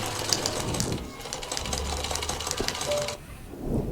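A grandmother's sewing machine stitches clothes on a school drama stage, a rapid, even mechanical rattle that runs for about three seconds and then stops.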